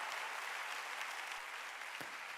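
A church congregation at a Sunday worship service applauds in a steady, dense wash of clapping that holds at an even level throughout.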